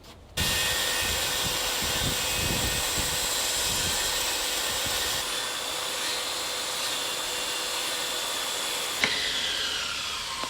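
A power saw cuts a wooden trim board during a home trim replacement, a loud steady whine with grinding texture that starts abruptly and runs continuously, dipping slightly partway and near the end, with no speech.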